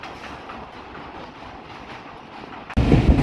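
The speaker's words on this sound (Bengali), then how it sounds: "গ্রাম বাংলার প্রকৃতি উপভোগ করতে করতে কিন্তু ট্রেন ছুটে চলছে পরবর্তী গন্তব্য তালমা রেলওয়ে স্টেশনের দিকে" Rajbari Mail passenger train running through the Bangladeshi countryside between Pukuria and Talma stations, with a steady rumble and clatter of wheels on rails that jumps sharply louder near the end.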